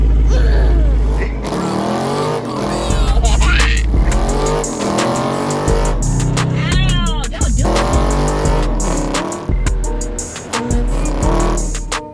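Car engines rev and roar at an outdoor Father's Day car show in Hinesville, Georgia, loud bursts of acceleration, tire squeal and passing cars, with sharp clicks and some talk mixed in.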